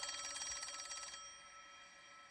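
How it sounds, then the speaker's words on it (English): A telephone rings in trilled bursts for a little over a second and then stops, leaving a faint room hiss; no voices. "He doesn't come to until 5 o'clock Sunday morning when the phone rings."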